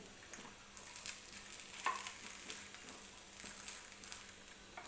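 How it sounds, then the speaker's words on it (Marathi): Appe being flipped and fried in an appe pan, soft sizzling with light taps and scrapes as each piece is turned, quiet and close with no talk. "तर अशाच पद्धतीने सगळे आप्पे आपण पलटून घ्यायचे."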